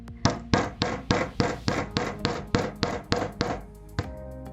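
A dozen close, even hammer strikes ring out on the wire frame of a holly napkin ring, a steady metallic tapping that stops with one last blow and a short fading ring.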